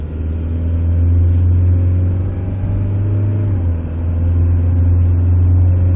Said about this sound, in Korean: 지금 한번 쭉 밟아보세요.